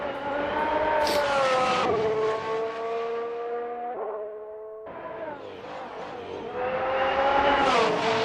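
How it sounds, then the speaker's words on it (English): Ferrari Formula One car lapping Mugello in the Assetto Corsa racing game, its engine whining loud and close with rising and falling pitch through gear changes, a brief drop in revs midway before accelerating hard again. "none other than the Weltmeister Dennis Graf, who is the first man out on track. He's looking to secure his first pole of the season with Ferrari"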